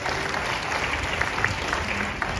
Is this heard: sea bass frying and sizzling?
no